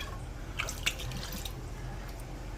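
Water splashes and drips into a cooking pot while lechon paksiw is made with bay leaves and tomatoes, heard as a few soft, close splatters over a low steady hum.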